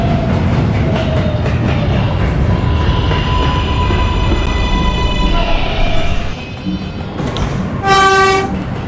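An R143 R subway train running toward 74th Street, loud rumbling and wheel clatter with a whining motor tone, the noise dipping as it slows, then a bright chime near the end.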